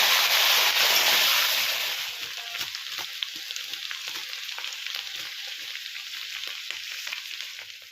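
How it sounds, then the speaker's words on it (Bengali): Cut and washed potatoes frying in hot oil, a loud bright sizzle at first that settles into a steadier, softer crackling fry with scattered pops, close up and without talk. "আলুগুলোকে ভেজে নেবো"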